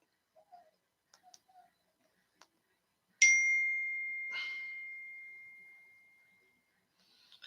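A few faint ticks and clicks, then a single clear electronic tone rings out and slowly fades over several seconds as a phone call drops to voicemail; the ticks return faintly at the end.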